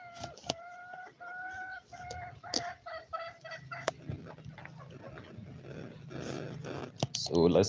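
Several chickens, including broody hens, cluck close by in short repeated bursts, with a quiet voice and rustling in the background.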